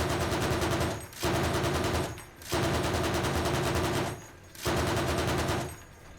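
Bursts of 7.62 PKM machine gun fire in the Arma Reforger military video game, three long sustained volleys separated by short pauses, loud and close.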